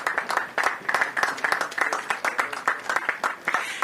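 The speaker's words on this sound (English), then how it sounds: "Give yourselves a round of applause." Audience at a groundbreaking ceremony for a hybrid renewable energy and battery project gives a steady round of applause, individual claps clearly audible in a moderate, even rhythm with no talking.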